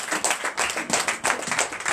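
A church congregation at a night deliverance service applauds for Jesus, producing dense, steady clapping from many hands in quick uneven bursts that fill the room.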